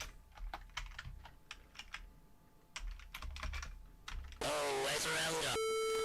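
Computer keyboard typing in quick irregular bursts of clicks with short pauses, then cut off by a loud synthetic electronic tune with steady tones near the end.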